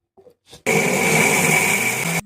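A kitchen mixer grinder running on its lowest setting to grind rice and potato, starting abruptly after a couple of faint knocks and droning loudly and steadily for about one and a half seconds before cutting off.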